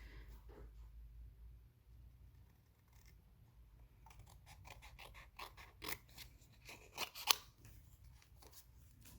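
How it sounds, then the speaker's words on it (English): Scissors fussy cutting a small paper watermelon with a thin white border for a handmade card, a series of quiet close snips and paper rustles that grow busier toward the end. "Snip out my watermelon. I'm going to fussy cut with a little white border."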